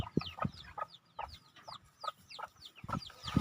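A hen clucks steadily in a farmyard with her chicks, giving short repeated clucks about every third of a second, close and clear, with faint peeping from the chicks mixed in.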